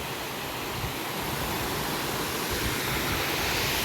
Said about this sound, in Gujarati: અહીંયા પણ ઝરણા ચાલુ છે જોઈ શકો છો તમે